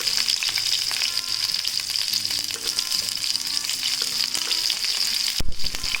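Cumin seeds and two dried red chillies sizzle in hot oil for an amaranth greens stir-fry, a continuous close frying hiss with a soft knock near the end.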